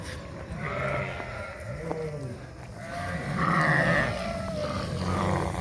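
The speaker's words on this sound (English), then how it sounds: "you can tell it's breeding season because the rams are pretty pumped up right now" Sheep and rams on a farm bleating repeatedly during breeding season, several overlapping calls near and loud, some deep and drawn out, with a continuous chorus of animals in the background.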